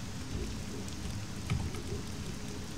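Steady rain falls in the video game The Elder Scrolls III: Morrowind, a faint, even hiss of drops with a few slightly louder patters and no speech.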